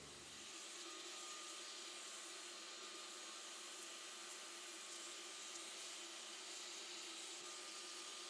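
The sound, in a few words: vacuum cleaner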